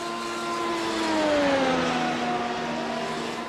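Race cars in a German Grand Prix racing game, engines whining and droning steadily with pitch sliding down as they run spread out, a continuous mid-level roar swelling slightly in the middle.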